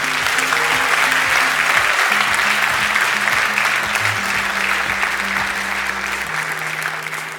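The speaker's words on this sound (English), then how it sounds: "A round of applause for all the graduates from the ITA track." A graduation ceremony audience applauds the graduates: dense, steady clapping from a large crowd, loud and sustained throughout and easing slightly toward the end, with faint low tones beneath.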